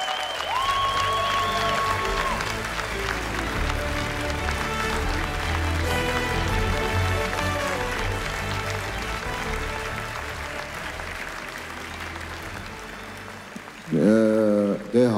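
Sustained audience applause at the 2022 Anahit film awards ceremony in Armenia, a dense, steady clapping crowd filling the hall, with music and a voice emerging near the end.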